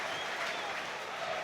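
Football crowd at a QPR versus Birmingham City Championship match reacting to a near miss, a broad steady roar of many voices and clapping, distant and continuous.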